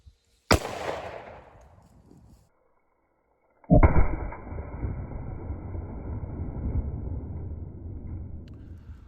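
A Springfield XDM 4.5 10mm pistol fires a single sharp, loud close shot into ballistics gel, its crack trailing off over about two seconds, then after a pause a steady broadband rumble with a faint hum continues.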